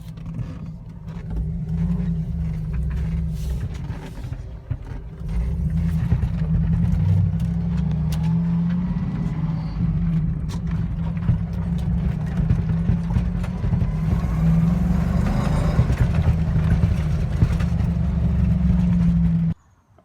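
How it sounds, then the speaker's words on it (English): An LS-swapped Jeep Wrangler on a test drive, its engine drone and road rumble steady and close for the whole stretch, with no talking, then cutting off abruptly at the end. "I'm going to take it for a test drive."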